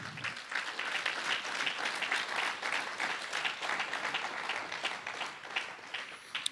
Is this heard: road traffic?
no